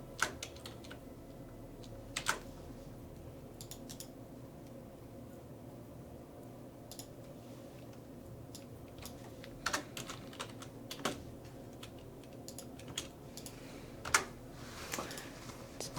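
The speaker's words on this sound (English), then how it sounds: "With the very loud keyboard that Dylan prefers." Loud computer keyboard typing in scattered bursts of clacky keystrokes with pauses between, set against a steady low background hum, with no talking.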